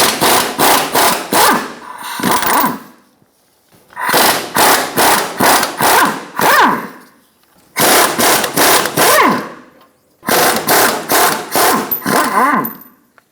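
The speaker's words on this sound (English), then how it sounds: "Using a 21mm socket, we're going to remove the 4 nuts on the U-bolts." Socket wrench spinning off the four nuts on the rear U-bolts of a 2014-2018 Chevrolet Silverado 1500, heard as four bursts of rapid loud ratcheting separated by short pauses, close and without talk.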